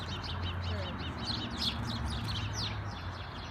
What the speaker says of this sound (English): in here, there's a real alive baby bird